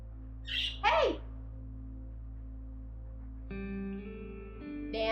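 A pet bird gives two short, harsh squawks close by early on, then falls quiet over a steady low hum, with some tonal electronic sounds coming in later.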